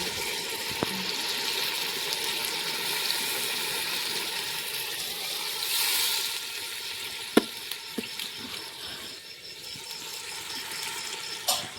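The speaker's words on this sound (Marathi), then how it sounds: "त्याच्यात पाणी टाकायचं ना आता." Water poured into a hot biryani pot on the stove gives a steady, close hiss and sizzle, with a few sharp clinks and knocks along the way.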